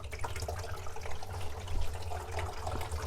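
Water overflows from a pipe into a second rain barrel of a backyard catchment system, a steady splashing, trickling pour close by and moderately quiet.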